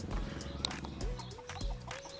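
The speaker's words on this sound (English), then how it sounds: "Oh, chicken!" A chicken on a farm clucks a few short times amid quiet rural background sound, faint and close, with brief rustling and a soft sharp click.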